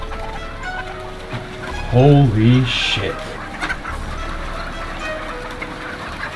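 A chicken clucks loudly and close in a short rising burst of calls, with a voice exclaiming briefly over ambient background noise.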